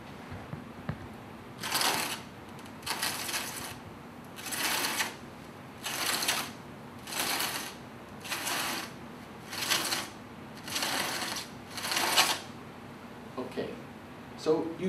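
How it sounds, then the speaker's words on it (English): A hand-cranked Quakecaster earthquake model turns steadily, giving eight evenly spaced bursts of grinding, ratcheting friction about every 1.3 seconds, each a short slip rising out of a low steady background. "what I want to do is show you what happens if I just crank steadily"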